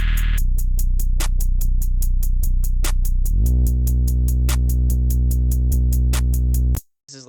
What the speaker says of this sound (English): this is how the first 808 sounds